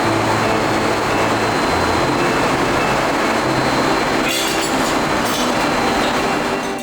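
A train on the Chengdu-Chongqing Railway gives a steady, loud rumble of rolling cars with a dense wash of wheel and track noise. Brief metallic rattles come in near the end.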